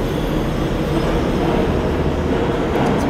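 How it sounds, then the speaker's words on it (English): A passing train fills the air with a loud, steady rumble and rolling clatter that holds constant throughout, with no talking. "As we wait for the train"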